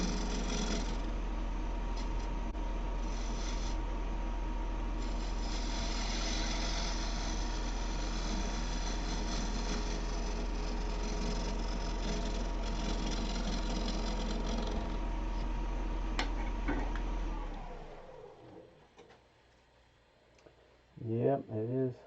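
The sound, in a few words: scraper cutting wood on a woodturning lathe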